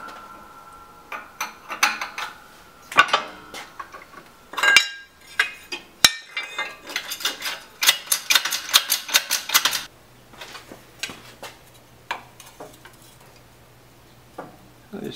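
Sharp metallic taps and knocks, irregular and close, clustered in bursts with quiet gaps between, as a hammer shapes a metal part for a custom intercooler.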